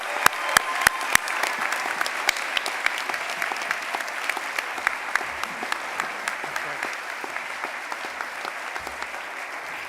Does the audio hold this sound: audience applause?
yes